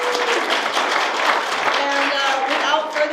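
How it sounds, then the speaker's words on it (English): An audience applauds the speakers at a spoken-word storytelling evening in Appalachia, a burst of clapping with crowd noise and some voices mixed in over a few seconds. "If you could give one big round of applause for the speakers and coming out tonight."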